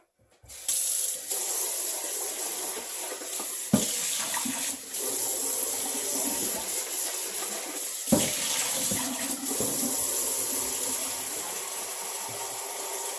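Water pours steadily from a tap in a continuous hissing stream, close by, with a couple of brief clunks partway through.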